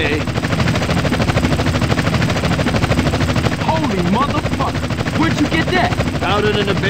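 Helicopter chasing the player in the video game GTA San Andreas, its loud rotor chop running steadily throughout amid gunfire-like bursts and game sound effects, with voices talking over it.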